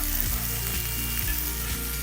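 Loud, continuous sizzling of ginger puree frying in hot oil, with a low rhythmic thumping pulse underneath, close up and without talk.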